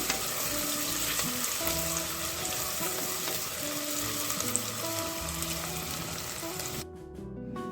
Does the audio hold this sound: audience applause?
no